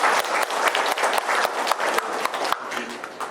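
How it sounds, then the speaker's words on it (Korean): Applause from an audience in a district office hall welcoming a National Assembly member to the podium at a residents' briefing on a housing redevelopment plan; dense, steady clapping from a fairly small crowd, close and continuous throughout. "뜨거운 박수로 맞아주시기 바랍니다."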